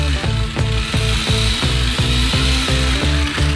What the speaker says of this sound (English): Using the same mixer, knead our dough again.